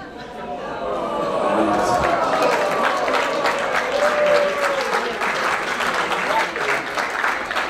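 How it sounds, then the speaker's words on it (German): An audience at a Swiss Fasnacht carnival show in a hall gives sustained, loud applause, dense clapping joined by cheering and chatter that holds steady for several seconds. "Und da war ein toller Applaus"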